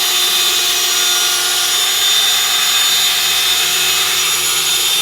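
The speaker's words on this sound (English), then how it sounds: "If you can hear that drill, it's not working any harder." A drill spins a HYDE Stir Whip all purpose mixer through drywall mud, a loud, steady high whine with a constant motor drone and no speech.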